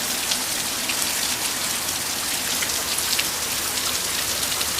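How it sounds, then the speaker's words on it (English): Steady rain falls outdoors on a chilly day, a dense, even hiss of drops with no pauses and no voices. "it feels very chilly out here in the rain"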